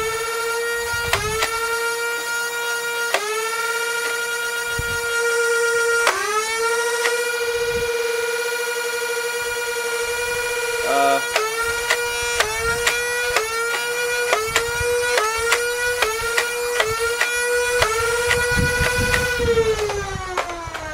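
A Nerf Vampire Cam ECS-12 blaster whines as its motor revs up repeatedly, each rising electric pitch followed by a sharp thwack as a dart fires, a steady series of shots close by.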